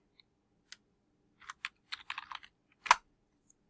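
A prompt is typed into ChatGPT on a computer keyboard: a handful of sparse, crisp key clicks, then a quick cluster of taps and one louder keystroke, close and quiet against a silent room.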